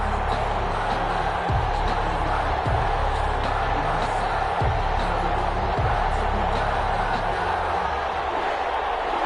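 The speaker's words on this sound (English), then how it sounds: "This crowd is ready as their guys get set to match up between the Tampa Bay Buccaneers and the New Orleans Saints." A constant stadium crowd roar from an EA Sports NFL video game before a Tampa Bay Buccaneers versus New Orleans Saints matchup, dense and steady with a few low thuds, under commentary.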